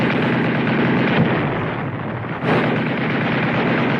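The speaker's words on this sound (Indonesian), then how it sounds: "muntahan peluru dan granat membuat beberapa rekan mereka tumbang" Battle in a World War II war film, with German troops under heavy gunfire and grenade explosions. A dense, continuous roar of shots and blasts holds loud and close for about four seconds.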